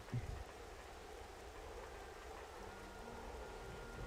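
Steady rain falls in Xenoblade Chronicles: Definitive Edition, a soft, continuous hiss of drops on the ground under faint ambient game music, with no voices.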